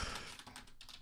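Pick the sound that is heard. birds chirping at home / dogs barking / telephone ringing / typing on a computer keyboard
typing on a computer keyboard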